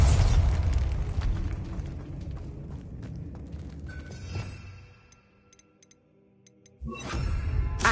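Bombarda spell explosions in Hogwarts Legacy, with loud bursts and booms, crackling debris and ticking mechanisms, a quieter stretch in the middle, then another heavy blast near the end.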